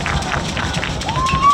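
The Reedy crowd at a high school baseball game cheers and shouts in a loud, steady wash of noise, with a commentator's voice running underneath.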